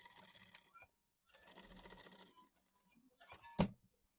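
A sewing machine runs in short, quiet bursts, stitching a seam joining the skirt and bodice of a summer sundress, with pauses between runs and a small sharp click near the end.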